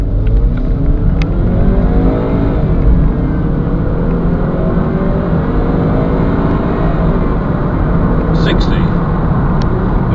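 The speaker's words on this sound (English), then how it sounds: "let's start with the 0 to 60 test" A 2009 BMW 320i SE engine roars up through rising gear pitches, accelerating hard from a standstill in a 0 to 60 test, with a close, continuous drone that sweeps upward again and again.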